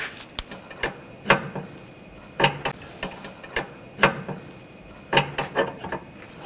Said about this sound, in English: And snug up that jam nut.